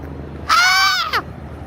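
A seagull on a New York City street in Manhattan gives a single loud, harsh squawking call, close by against steady low street hum, with a short extra note at the end.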